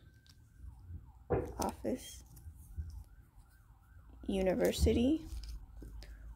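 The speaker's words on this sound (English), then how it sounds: "I'm sorry if you hear the sirens in the background" Sirens wail faintly in the distance outside, a thin wavering tone running beneath nearby speech and the handling of board game pieces.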